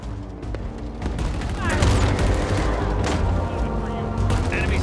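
Loud, sustained gunfire and booming blasts in a Halo Infinite campaign battle, dense overlapping shots with game voices calling out commands.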